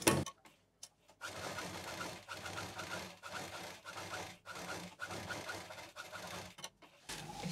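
A sewing machine stitches quilted fabric for a book cover, running in steady close whirring bursts broken by short stops, fairly quiet and with no speech over it.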